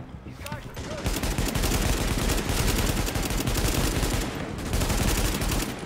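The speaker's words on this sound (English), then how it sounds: "Damn, I'm just shooting and hoping for the best." Sustained gunfire in Tom Clancy's The Division forms a loud, rapid volley of automatic bursts and overlapping shots that carries on for several seconds, with a brief dip in the middle.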